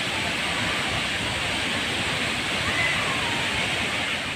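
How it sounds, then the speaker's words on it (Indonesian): Broad, steady roar of a large waterfall at Renah Sungai Besar, loud and continuous from start to end with no breaks, heard close by and with no other sounds rising above it. "itulah air terjun yang kita maksud"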